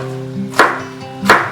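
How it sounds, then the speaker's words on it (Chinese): A knife chops a little red chili pepper on a cutting board: two crisp, close knife strikes about seven tenths of a second apart over a low steady hum. "趁这个时间切少许的红辣椒"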